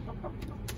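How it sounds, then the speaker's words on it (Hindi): A hen, Rhode Island Red or similar backyard layer kept in a small coop, gives a few short clucks right after laying an egg, close by, over steady low background noise. "जब भी मुर्गी अंडा देती है तो ये उसकी आवाज है।"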